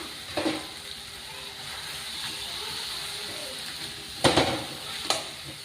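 Dal frying in a pan with spices and a fish head gives a soft continuous sizzle, broken by a few sharp stirring scrapes and splutters, with a voice speaking over it.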